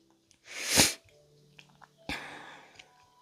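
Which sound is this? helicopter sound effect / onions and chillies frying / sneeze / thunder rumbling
sneeze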